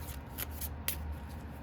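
Tarot cards being shuffled by hand with an overhand motion, not riffled, giving soft, quiet papery swishes and taps in a few bursts with no talking.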